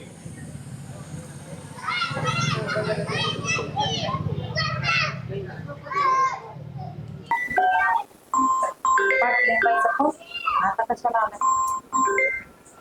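Children chatter and shout, then a phone's high electronic call ringing tone beeps a few times in short pulses while voices keep talking over it.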